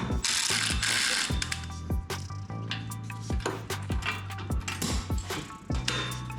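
A hand ratchet tightens the tire carrier latch on a fifth-generation Toyota 4Runner, with rapid close metallic clicking in repeated bursts of strokes and occasional light clinks between them.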